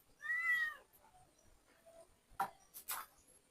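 A house cat beside a backyard fishing pond gives one clear, drawn-out meow up close, followed by a few faint knocks and rustles.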